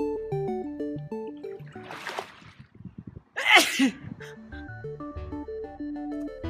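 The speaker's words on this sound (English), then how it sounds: "The sun sneeze, sometimes called a photic sneeze" A single sharp photic sneeze, triggered by sunlight, bursts out over light music playing in the background, preceded by a quick inhaled gasp.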